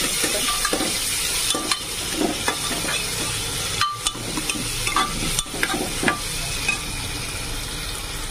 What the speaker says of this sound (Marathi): तर आता मी चांगलं फ्राय करते.